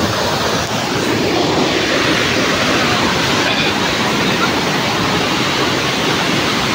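Bageri Naka Band waterfall with people bathing beneath it, a loud, constant roar of falling water with no pauses, close and filling the whole scene.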